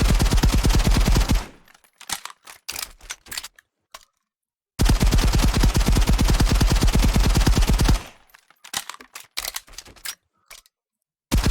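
MP7 submachine gun firing in the Contractors video game, loud rapid automatic bursts in two long strings separated by short pauses, followed by scattered clicks and mechanical handling sounds.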